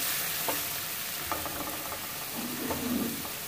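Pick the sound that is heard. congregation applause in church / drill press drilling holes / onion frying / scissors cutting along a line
onion frying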